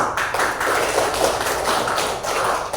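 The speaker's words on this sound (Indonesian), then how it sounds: "Tepuk tangan." Classroom of students clapping their hands together, a dense, steady patter of close claps with slight swells, no talking over it.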